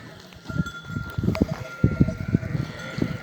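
A flock of Akkaraman and Kangal sheep and lambs heading to pasture bleat repeatedly in a steady chorus, several animals calling close together over a faint background murmur.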